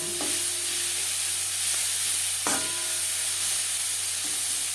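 Turmeric, salt and spices fry in a pan for a Brahmi shak curry, giving a loud, continuous hissing sizzle up close, with a couple of brief knocks from stirring.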